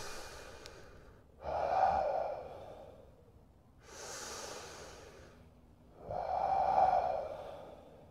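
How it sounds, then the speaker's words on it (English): Three slow, deep breaths during guided breathwork meditation, each a soft airy inhale or exhale rising and fading over about a second, with quiet pauses between; close and gentle, no talking. "Take a deep breath."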